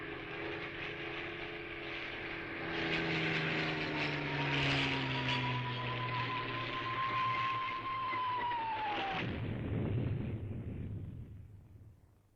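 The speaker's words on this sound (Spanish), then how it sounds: "Los aviones eran Heinkel 111 y Junkers 52." Heinkel 111 and Junkers 52 bombers drone overhead, a sustained engine roar with a slowly falling pitch that builds and then fades away.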